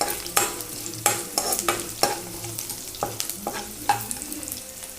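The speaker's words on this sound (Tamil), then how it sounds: "எல்லாம் போட்டு நல்லா வணக்கிக்கோங்க" Onions with curry leaves and green chillies sautéing for pepper pumpkin, a spoon scraping the pan in repeated sharp strokes over a steady low sizzle, close and fairly loud with no talk.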